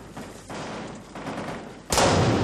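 Several bursts of gunfire crack out in close succession, fairly faint at first, then a louder, sharper blast near the end.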